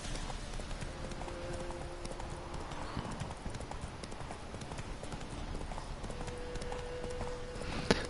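Horse hooves clip-clopping in the Witcher 3 video game, a steady rapid galloping rhythm at moderate level throughout, with faint tonal game music underneath.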